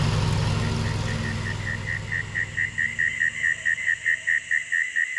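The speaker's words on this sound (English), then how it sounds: "You hear all these crickets and frogs?" Frogs and crickets call at dusk in the Australian outback, with a rhythmic pulsing croak repeating steadily over a low vehicle engine rumble that fades away.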